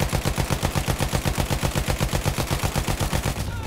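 Rapid, continuous machine-gun fire aimed at a bomber during a Battlefield 1 Conquest match on Monte Grappa. The rounds come as a steady rattling stream that stays loud throughout.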